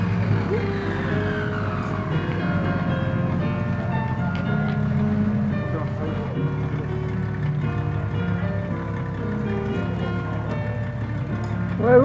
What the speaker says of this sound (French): On veut le bruit du moteur.